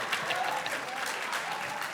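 Studio audience of a comedy show breaking into vigorous applause, a dense continuous patter of many hands clapping for the full two seconds.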